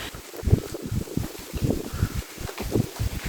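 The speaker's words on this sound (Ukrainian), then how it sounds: "Я тут зупинилась шапку вдягти, бо щось вітер дує." Gusty wind buffets the microphone in low rumbling bursts, with faint rustling mixed in.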